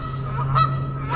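A goose gives a short nasal honk near an island on a pond at a nature center, a single clear call over steady outdoor hum.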